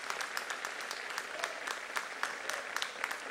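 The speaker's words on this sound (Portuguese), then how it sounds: "Vamos aplaudir a Jesus." A church congregation applauds during a worship service with dense, steady clapping that sounds fairly distant and soft, continuing evenly throughout.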